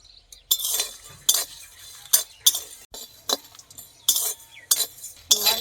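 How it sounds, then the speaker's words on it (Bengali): Dry whole spices being roasted and stirred in a hot wok over a stove, a quick run of sharp metallic scrapes and clinks repeating in uneven bursts close up, with no talking. "শুকনো খোলায় যে মশলাগুলো নিয়েছি এই মশলাগুলো ভেজে নেব"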